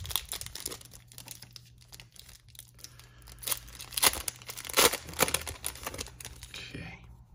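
Football trading card packs, Certified, Elite and Donruss, being ripped open, with crinkly foil crumpling and sharp tearing bursts that grow louder midway, close up and with no talking.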